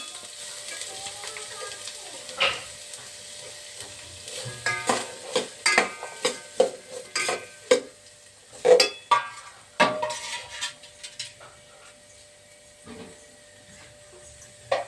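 Curry leaves dropped into hot oil, a crackling sizzle broken by a run of sharp spatters and utensil knocks in the middle, close by, with a faint steady hum underneath and no talk.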